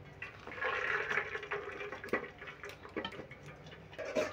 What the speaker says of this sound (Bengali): আমি একটা ছিদ্র থালায় ঢেলে নিচ্ছি।